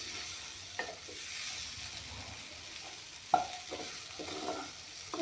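Tomato and capsicum fry with black pepper powder in a pan, making a soft, steady sizzle broken by a few clacks and scrapes of stirring, close but fairly quiet.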